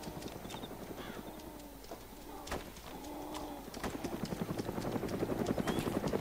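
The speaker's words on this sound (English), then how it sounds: "It's due to that fucking helicopter." A helicopter flies in the video game DayZ, its steady, throbbing rotor drone running throughout and building slightly louder toward the end.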